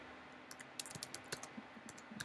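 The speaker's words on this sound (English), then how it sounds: "let's type something there like" Quiet, close typing on a computer keyboard while building a first XHTML/CSS webpage, with a short irregular run of light key clicks over faint background hiss.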